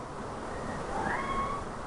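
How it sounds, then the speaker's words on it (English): A little kitten, frightened by a storm, lets out a faint, thin meow or two in the middle of a steady background hiss; it is brief and somewhat distant. "If you hear something, that's my little kitten."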